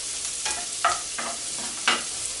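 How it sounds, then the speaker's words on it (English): Onion frying in a pan hisses softly and evenly, with a few distinct stirring scrapes spaced through the short stretch. "Let the onion grill and look like translucent."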